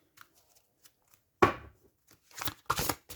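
A deck of tarot cards shuffled by hand, with one sharp slap followed by a few quick riffling bursts, close and fairly clear against near silence.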